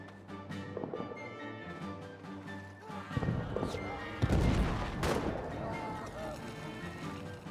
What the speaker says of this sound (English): Oh, grenades are flying.